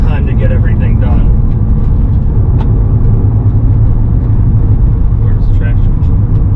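A VW Golf R on an autocross suspension test drives with a steady, loud engine and road rumble that runs throughout, with faint voices over it.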